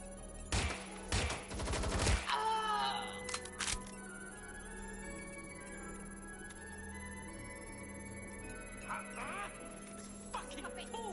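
Several sharp gunshots crack early in the video game Watch Dogs: Legion, then fade to a quieter background with scattered faint pops, while voices shout over the scene.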